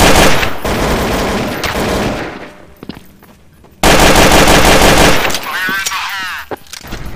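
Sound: gunfire in video game Counter-Strike: Source

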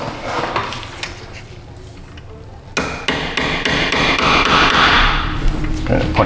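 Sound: center punching cotter pin with hammer

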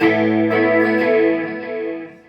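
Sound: electric guitar strummed chords

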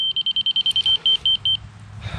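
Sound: grade rod laser receiver beeping at excavator site

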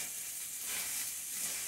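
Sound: ground meat browning in a pan with onion

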